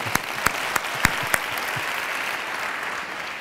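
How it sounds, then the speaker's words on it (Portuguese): A theatre audience at a storytelling event in Lisbon's Tivoli theatre breaks into applause, a few sharp, loud claps at first, then a full, steady roar of many hands that carries to the end. "uma salva de palmas para ela"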